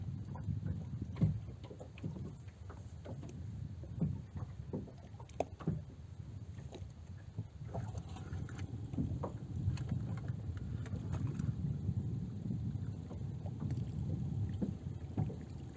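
A low fishing boat engine idles steadily with a rough rumble, and water lapping and small knocks come through now and then, with no talking.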